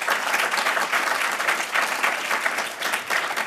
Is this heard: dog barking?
no